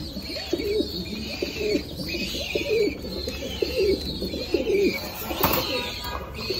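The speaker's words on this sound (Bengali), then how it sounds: "একদম জাম্বু সাইজের কবুতর।" Large jumbo-size pigeons coo steadily in repeated low, throaty phrases, close by, with faint chirps and a light background hum.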